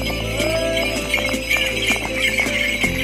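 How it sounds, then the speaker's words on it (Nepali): Horses race at a horse race in Dhorpatan, Nepal, hooves clattering in quick uneven beats amid loud crowd noise and outdoor bustle. "ल घोडा दौड गइरहेको छ हाम्रो ढोरपाटनमा है बब्बाल छ"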